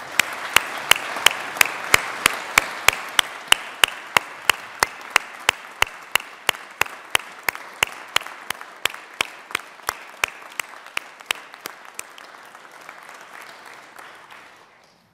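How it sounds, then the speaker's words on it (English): Applause fills the Colorado Senate chamber on the opening legislative day, a steady wash of many hands with individual claps standing out, holding strong before slowly thinning and fading out near the end. "Please join me in applauding their service."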